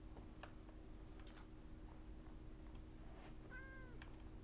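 Cats meow in Minecraft, a few short quiet game-sound calls near the end over a steady low background hum, with no talk.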